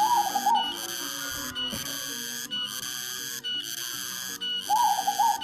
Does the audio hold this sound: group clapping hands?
no